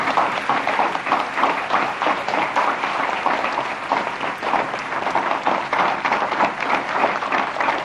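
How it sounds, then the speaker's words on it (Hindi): A large audience applauds to welcome the Prime Minister at a formal ministry event, dense steady clapping filling the hall without a break throughout. "आप सभी से अनुरोध है तालियों से उनका स्वागत करें।"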